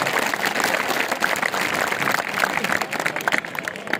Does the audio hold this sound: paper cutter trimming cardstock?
no